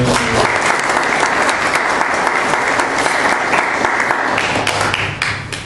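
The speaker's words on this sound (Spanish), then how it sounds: "Démosle ese fuerte aplauso de Dios." Loud, sustained applause from a church congregation fills the room steadily for several seconds before beginning to fade at the end.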